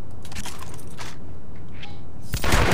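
Shotgun fire in a Hitman game, a series of close, loud blasts and thuds that ends in one sharp, heavy burst.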